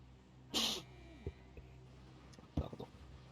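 A single sharp sneeze close to a headset microphone, followed by faint clicks and a second quieter burst, with low background noise from an online Warzone battle royale game session.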